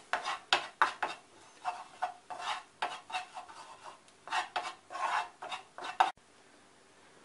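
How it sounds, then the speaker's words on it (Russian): A spoon scrapes and rubs rhythmically against the bottom of a pan of flour frying in butter, roughly a dozen quick strokes, with a soft sizzle underneath. "Добавляем к маслу одну столовую ложку муки и прожариваем до золотистого цвета."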